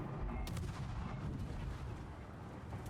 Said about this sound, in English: Still don't get why you're shooting the Hremlin at max range.